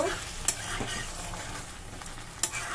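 A steady sizzle comes from a curry frying after hot water is added, close and continuous, with a couple of sharp clinks from a utensil against the pan.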